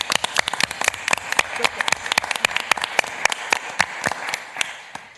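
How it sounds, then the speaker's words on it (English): Applause at a Ramsey County board meeting, a small group giving distinct, fairly sparse claps that fade near the end, with no talk over them. "I want to give Mee a round of applause."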